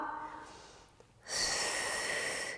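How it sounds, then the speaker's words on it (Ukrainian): Deep breaths in and out during morning gymnastics for ankylosing spondylitis: a softer breath first, then a long, loud, airy exhale close to the mic, with no talking. "Вдих, видих."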